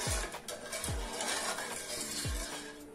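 Melted sugar caramel stirred in a pan, with repeated soft scraping and a few dull knocks of the utensil against the pan over a constant sizzling hiss, no talk.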